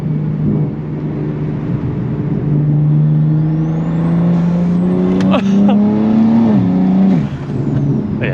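An 830 whp BMW M240i engine and exhaust drone steadily while driving, revving up in a rising pitch, then dropping sharply on a shift and climbing again, loud and close inside the car.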